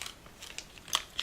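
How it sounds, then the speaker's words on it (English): Trident Splash Strawberry and Lime gum is chewed up close, soft wet crunches and clicks coming in a few irregular bursts over quiet background, with no talking. "This gum is so good. I'm chewing"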